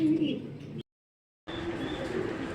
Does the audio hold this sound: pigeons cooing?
yes